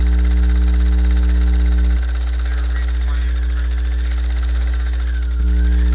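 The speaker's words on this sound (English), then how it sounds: "It's just, you know, long, mindless sewing, these sections right here" Sewing machine running steadily on long seams in a jeans project, a loud continuous mechanical hum with a brief change in tone partway through.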